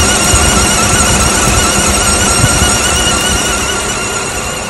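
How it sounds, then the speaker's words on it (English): A loud, continuous high-pitched squeal from a car engine's alternator, steady throughout over the running engine. "that alternator sounds noisy to me"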